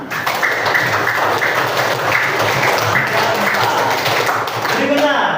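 Classroom students applaud together in a steady, loud burst of clapping that runs throughout, with voices talking over it.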